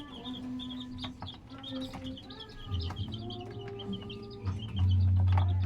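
Incubator-hatched chicks chirp in high, repeated peeps close by, with clucking from older chickens and a low steady hum underneath.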